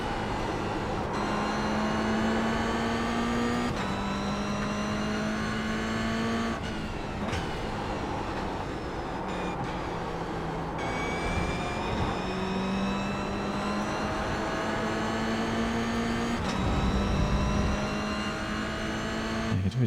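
Race car engine at speed, loud and continuous, pitch rising through each gear and dropping sharply at every shift, with no talking over it.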